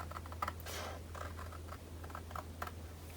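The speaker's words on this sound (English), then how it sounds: "now we will fussy cut here around" Scissors fussy-cut paper around a shape in short, quiet snips and rustles, close and faint over a low steady hum, no one talking.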